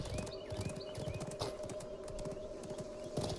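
Horse hooves gallop in a fast, even clip-clop rhythm during Realm Royale gameplay, quiet and steady with a faint background tone.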